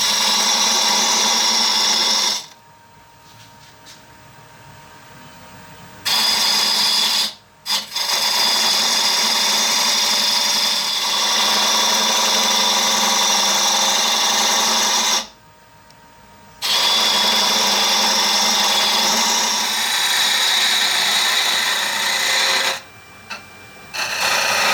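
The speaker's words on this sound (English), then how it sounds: "I'm going to get my my spindle turning gouge, and I'm going to start working on this particular" Spindle gouge cutting wood on a lathe for a music stand part, a loud steady broadband hiss that runs in long passes and stops in several short, quiet breaks between cuts.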